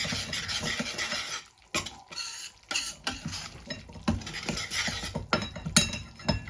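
A spoon scrapes and clatters through a thick Gujarati sukhdi mixture studded with almonds, cashews and pistachios, in irregular bursts with brief pauses, close and fairly quiet.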